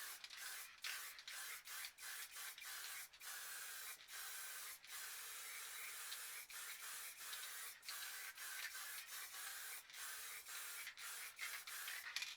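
White spray paint from an aerosol can laid down as a light coat, heard as a steady close hiss broken by frequent short pauses between bursts, with no talking.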